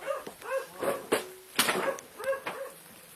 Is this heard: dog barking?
yes